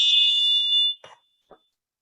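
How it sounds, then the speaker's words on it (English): Loud, steady electronic alarm beeping from a busy street intersection outside, a high pitched tone sustained for about a second and then cut off, followed by two brief faint clicks. "I was hoping the beeping would stop before I had to present."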